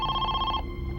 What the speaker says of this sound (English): the phone finally rang